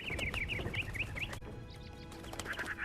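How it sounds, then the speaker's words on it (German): Chickens cluck in quick repeated bursts in the video game Hitman 3, set in England, with a sharp click midway and a second run of clucks near the end, moderately close over a soft ambient bed. "Ja, hier haben wir schöne Vögel."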